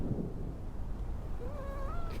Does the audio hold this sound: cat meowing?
yes